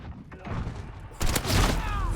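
Gunfire in Call of Duty Modern Warfare multiplayer, likely an MP5 submachine gun: a burst of loud, close shots breaks out about midway, over a steady bed of game noise and chatter.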